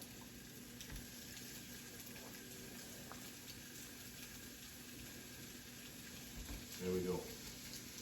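Sausage patties frying in a pan, giving a soft, continuous sizzle at low volume with a brief clatter near the end and a short spoken remark.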